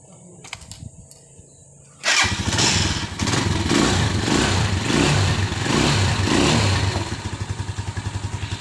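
A motorcycle engine runs after a spark plug adjustment, kicking abruptly into a loud, steady idle with rhythmic chugging pulses that hold for several seconds, with a faint clatter before it starts.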